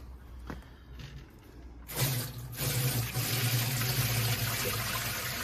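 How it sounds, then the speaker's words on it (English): Water pours from a 5-gallon bucket, starting with faint trickles and drips, then bursting at about two seconds into a loud, steady gushing splash that continues close up to the end. "we've got a 5-gallon bucket of water, and we're pouring"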